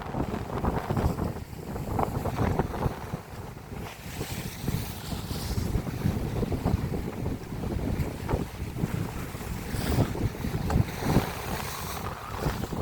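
Water moving along the Lake Michigan shore in Chicago on a cold day, a continuous rushing wash of waves mixed with heavy gusting wind buffeting the microphone, close and fairly loud with no talking.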